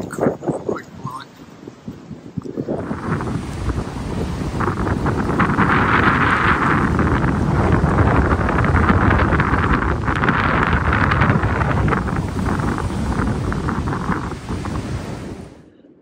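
Strong wind roars across a mountainside on a hiking trail, a loud, steady rushing gust that builds after a quieter start and holds for many seconds before cutting off.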